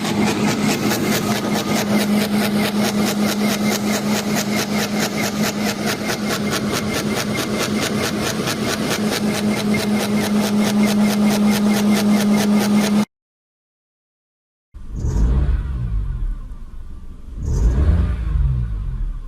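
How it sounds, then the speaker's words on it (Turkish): A car engine idles steadily with a high, constant squeal over its hum for a long stretch, then cuts out, followed by two short rubbing bursts. "motordan gelen sürtme sesi, motordan gelen ciyaklama sesi"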